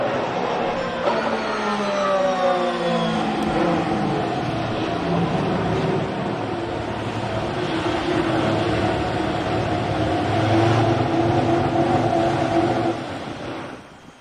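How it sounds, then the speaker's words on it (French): A Formula 1 car with an electric motor passing by, a loud rising and falling engine whine with whistling harmonics that builds, swells again near the end, then cuts off abruptly. "Il y a peut-être un léger sifflement plus puissant qu'avant, parce qu'il y a le moteur électrique qui prend une plus grande part"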